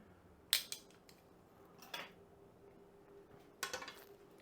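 Sharp metallic clanks and scrapes as pork chops are shifted onto a metal sizzle platter, a few clustered knocks separated by quiet pauses.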